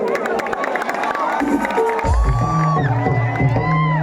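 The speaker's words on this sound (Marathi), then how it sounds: "तर एकदा जोरदार टाळ्या तुमच्यासाठी होऊन जाऊ द्या" A loud crowd cheers and whoops at an open-air naman folk drama show in Diva, Mumbai, with music rising beneath the noise partway through.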